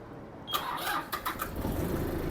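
A used Mitsubishi MT221 mini tractor engine cranks and catches after half a second of quiet, then settles into a steady mid-pitched idle with a few sharp bursts, heard close and alone.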